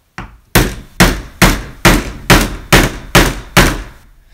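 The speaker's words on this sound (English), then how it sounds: "Then you want to hold your end tight while you hammer down the nail." A hammer drives a nail into a wooden Langstroth beehive frame with eight sharp, evenly spaced blows, loud and close with no talking.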